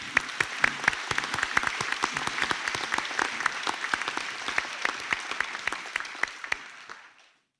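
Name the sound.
audience applause for graduates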